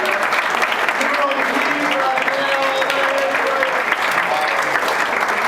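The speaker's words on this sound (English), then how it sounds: "Give it a hand for Paul, everybody." An audience at a comedy show claps and cheers in a steady, dense burst of applause lasting several seconds, with a few voices calling out within the crowd noise.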